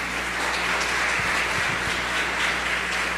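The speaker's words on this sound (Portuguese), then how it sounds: "Vamos aplaudir ao Senhor por isso?" Church audience applauding, a dense and continuous wash of many hands clapping that stays at an even moderate level, with no voices rising above it.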